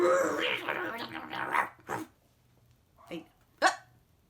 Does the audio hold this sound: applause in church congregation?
no